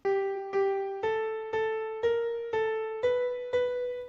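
An algorithmically generated melody favoring small intervals, eight evenly spaced synthesized tones stepping gradually upward in pitch, clean and close with no talking.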